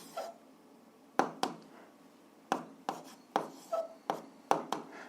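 Pen or pencil writing numbers on paper for a simple algebra exercise: short, close scratchy strokes in irregular bursts, about ten quick marks over a few seconds, quiet, with no voices.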